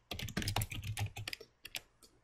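Typing on a computer keyboard while entering a spreadsheet label: a close, quick run of clicking keystrokes that trails off into a few separate taps, no talking.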